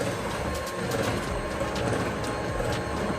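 An electric mixer whips cake batter with a steady whirring, rattling drone, up close and continuous, with occasional clicks and no talking.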